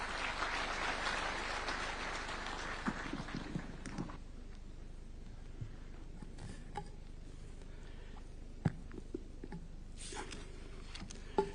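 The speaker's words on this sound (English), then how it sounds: "A round of applause." Applause from an audience at a health summit at KICC in Kenya, loud and broadband for the first few seconds, then fading into quiet room tone with scattered ticks and small knocks.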